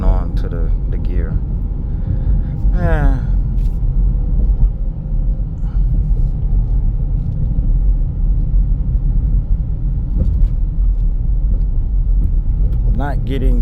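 Engine of a 2022 Jeep Grand Cherokee Limited 4x4 in sport mode, holding a gear with a steady low drone and road rumble inside the cabin, while people talk over it throughout.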